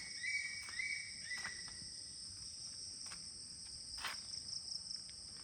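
Crickets in a forest near the CRP cottages keep up a steady, high, shrill drone. A few brief, faint chirps rise over it now and then, with no talking.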